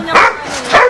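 A dog barks twice in quick succession, close by and fairly loud, in a rural yard near a pig farm.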